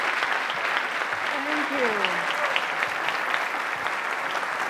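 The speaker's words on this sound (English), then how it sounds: "Save some of the applause just in case it's not as good as you expect." Steady, dense applause from an audience in a community-college event hall greets an author, filling the whole stretch at an even level, with a brief spoken thanks over it.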